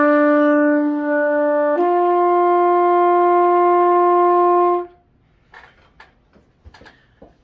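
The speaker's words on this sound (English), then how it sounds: "Now the third valve's tubing is the longest, so this is going to make the sound the lowest." A trumpet note with the third valve pressed, the lowest of the valve pitches, sounds loud and close, shifting once to a steadier tone and holding for several seconds, followed by faint handling clicks and rustles.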